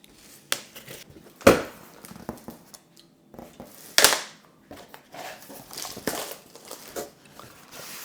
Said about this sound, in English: Oh, you've got to cut it from the bottom.